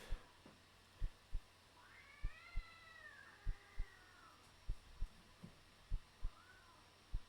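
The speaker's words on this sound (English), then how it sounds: "Why is that stupid cat in the background again?" A cat meows in the background during a late-night indoor gaming session, a drawn-out wavering call followed by a shorter meow, faint behind regular soft thumping beats.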